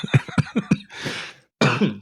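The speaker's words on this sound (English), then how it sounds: "I'm coughing today" Several short, sharp coughs in a quick burst, then a hiss of breath and a rougher cough or throat sound, close and fairly loud.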